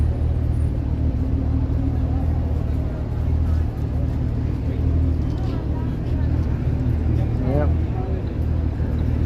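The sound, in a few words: classic car driving past on a Toronto street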